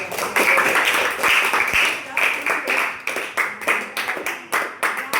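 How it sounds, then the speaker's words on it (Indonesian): A classroom of students claps for a classmate in a quick, rhythmic series of bursts during a math lesson, with voices mixed in among the claps. "Aplaus untuk Pamru"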